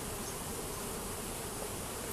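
Dense, steady buzzing of many honeybees, close and continuous with no pauses, from inside a busy hive during a natural comb inspection.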